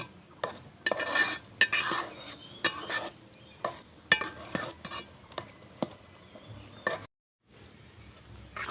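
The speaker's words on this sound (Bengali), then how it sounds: "এখন আমি দুধের ভিতরে দিয়ে দিচ্ছি কেটে রাখা ব্রেড। এখন এটা খুব ভালো করে দুধের সঙ্গে মিশিয়ে নিতে হবে।" A spoon stirs cut bread pieces into hot milk in a pot, sharp irregular scraping and clinking strokes against metal, close and fairly loud, with a short silent gap near the end.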